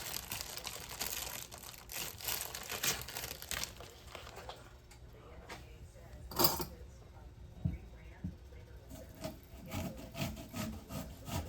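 Crackers crushed by hand for salmon patties, giving dry crinkling, rubbing crunches in an irregular run of short bursts, close and moderately loud, with a sharper crunch midway.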